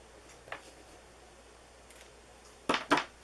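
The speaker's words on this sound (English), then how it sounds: "where's my scissors here? My ribbon scissors." Ribbon scissors snip through ribbon in two quick, crisp cuts near the end, after a faint click, close and quiet.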